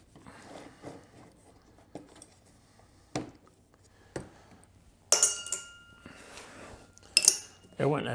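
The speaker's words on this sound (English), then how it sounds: "There went another nut down there." Small metal nuts clink and tick as they drop onto a hard floor during repair work on a Suzuki LT-F300 King Quad, a few bright, close pings among scattered tool clatter, with a voice briefly in the background.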